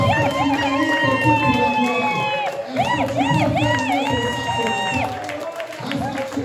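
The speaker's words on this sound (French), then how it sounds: "Je dis que nous voulons recevoir le Saint-Esprit ce matin par des acclamations, mon Dieu." A church congregation at a Pentecost worship service in Limoges cheers and acclaims loudly, with sustained shouts and ululating voices over a dense crowd roar throughout.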